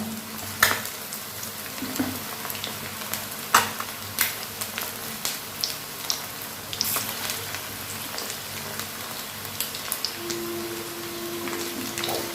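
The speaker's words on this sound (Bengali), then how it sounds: "অনেকগুলো কিন্তু একসাথে ভাজা যাবে কারণ আমি কড়াতে অনেকটাই তেল দিয়েছি" Chicken pakoras deep-frying in plenty of oil in a wok give off a steady crackling sizzle, with sharp pops and a few clinks of utensils scattered through it, close by and with no talk.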